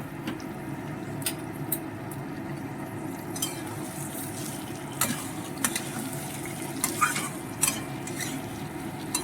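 Vegetarian cauliflower and potato curry stirred in a pan: a low, steady sizzle runs underneath, and light scrapes and clinks of a spoon against the pan come at intervals, fairly quiet and close.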